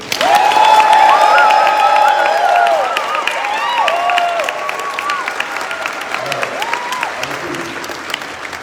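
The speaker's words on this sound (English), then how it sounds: "we're going to give Grace a round of applause" Steady applause from a gala audience claps throughout, loud at first and then tapering, with a few whoops and cheers rising above it.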